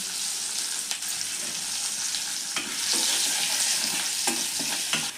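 Green chillies sizzle steadily in hot oil in a pan for tomato egg curry, a dense close hiss broken by a few sharp spatters and stirring scrapes, with no talk.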